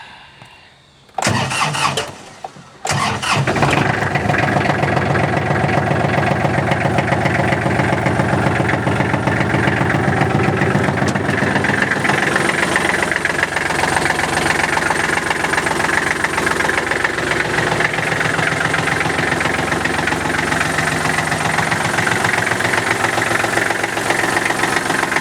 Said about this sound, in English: so we can fire it up.